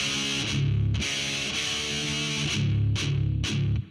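A heavy metal electric guitar riff with distortion: chugging palm-muted downstrokes on the low open strings alternate with a ringing power chord, loud and close, with sharp pick attacks punctuating the rhythm and no talking.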